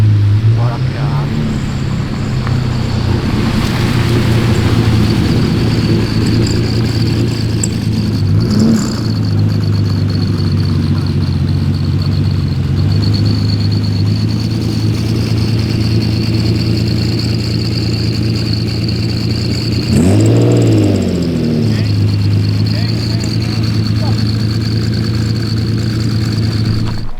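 A Lamborghini Murcielago 25th anniversary edition's engine rumbles loudly at an outdoor Lamborghini event, with two rising revs over a steady idle and people talking nearby.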